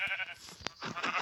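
Sheep in the mobile edition of Minecraft give a couple of short, close, loud bleats, one bright burst cutting through midway, with no talking.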